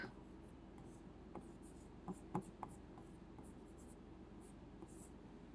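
Chalk or marker writing on a board during a physics lesson on dimensions, soft faint scratchy strokes in short irregular bursts over a steady background hum.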